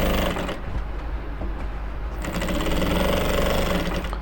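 An electric sewing machine runs steadily, stitching a seam on an Ankara top, its dense mechanical whirr continuous and fairly loud throughout with no talk over it.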